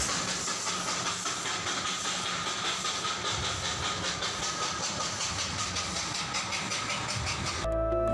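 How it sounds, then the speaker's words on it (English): A steam locomotive hauling the joyride train between Darjeeling and Ghum on the Darjeeling Himalayan Railway gives a steady, loud rush of steam hiss and rolling rail noise that holds for several seconds, then cuts off abruptly. "a joyride is operated between Darjeeling and Ghum station, which is hauled by a steam locomotive"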